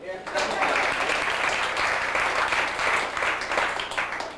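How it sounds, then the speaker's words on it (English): A comedy club audience applauding steadily, a dense wash of clapping that holds for several seconds without pause. "How about a round of applause for flexibility?"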